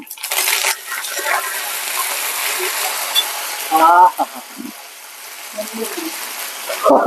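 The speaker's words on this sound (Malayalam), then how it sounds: "ഇനി കരിവേപ്പില ഇടാം." Curry leaves dropped into hot oil already frying dried red chillies, mustard seeds and onion for kappa biryani give a steady close crackling sizzle, with a louder burst near the start and brief clinks of a utensil.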